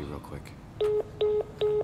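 Three short, evenly spaced electronic tones like a phone's ringback or dial beeps, following a brief bit of speech, from a phone call in the video game Soma.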